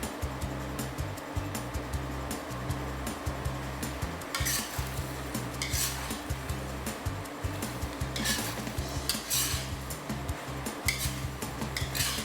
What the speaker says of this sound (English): Mix all this really well, then taste and adjust for seasoning.